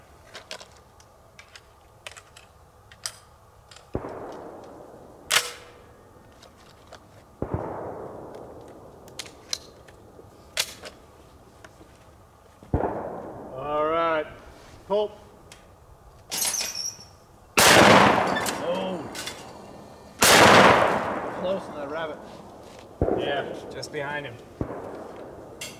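Several loud shotgun blasts at clay targets ring out at intervals, sharp cracks with a trailing echo, mixed with people talking and calling between shots.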